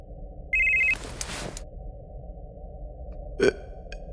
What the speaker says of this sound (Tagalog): Nangilabot ako nang makita kong may tumatawag sa cellphone na pinatago sa akin ni Popoy noon